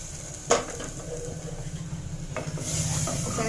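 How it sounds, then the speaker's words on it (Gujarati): Roasted flour and milk are stirred in a pan, a close scraping swish of the spoon over a low sizzle, with a sharp knock early and the hiss rising toward the end. "થોડું ને હલાવવાનું, લોટ ગાંઠું કે ન પડે ને એવી રીતના"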